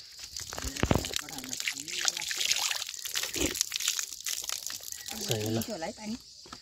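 Water runs and splashes with a crinkling rustle, while a person talks over it intermittently near the end.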